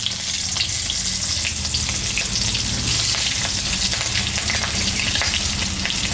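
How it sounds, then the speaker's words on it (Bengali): Panch phoron and green chillies hitting hot oil in a pan, a loud, steady close-up sizzle threaded with small crackles and pops that runs without a break. "তেল গরম হয়ে গেছে, এখন পাঁচফোড়ন আর কাঁচা লঙ্কা আমি দিই।"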